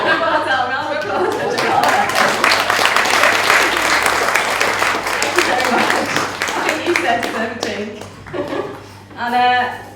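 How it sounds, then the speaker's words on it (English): An audience at a comedy-style science night gives sustained, dense applause that fills the room, fading toward the end as people talk and laugh over it. "Well done, round of applause."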